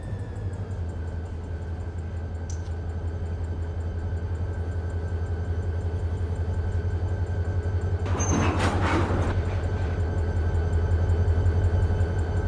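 Rail cars are shoved back slowly in a Union Pacific yard in Fresno, a constant loud low engine drone with a steady hum and a brief burst of screeching metal and clanking partway through.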